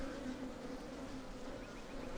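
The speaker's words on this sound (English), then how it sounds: "I hear bees" Bees buzz steadily around a hive in the fantasy game Skyrim, a close, continuous droning hum that stays even throughout.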